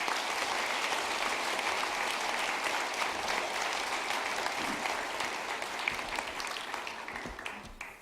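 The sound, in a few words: church congregation applause welcoming pastor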